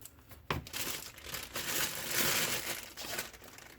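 Foam packing material crinkling and rustling as it is pulled out of a BSA Sweet 17 3-12x40 rifle scope box, a sudden loud crackle at first followed by continuous close handling noise.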